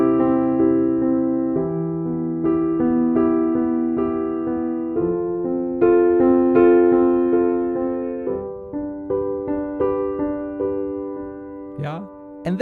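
An easy beginner piano melody is played alone in clear single notes and chords, growing louder and softer in phrases with dynamics, ending in a faint bump.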